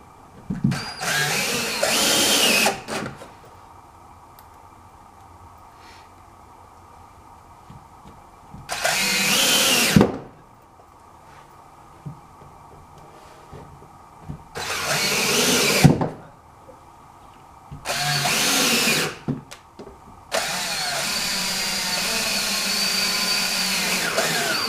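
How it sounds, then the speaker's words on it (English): Power drill driving screws into a large siding mounting block on a house wall, in four loud whirring bursts of a few seconds each with a steady background hum between them, ending in a longer sustained run. "We're going to put 6 screws in."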